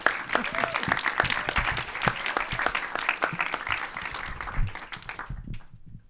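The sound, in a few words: audience applause for the film's producer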